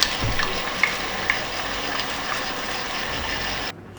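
Bok choy and vegetables stir-frying in hot oil, a steady close sizzle with a few stirring clicks and scrapes, cutting off abruptly near the end.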